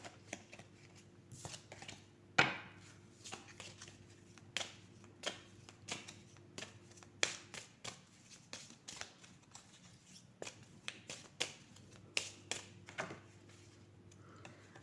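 Oracle cards being shuffled by hand: a string of quiet, close, papery riffles and slaps in an irregular rhythm, with near silence between them.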